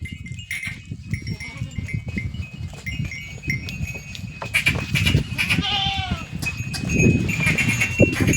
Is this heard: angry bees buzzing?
no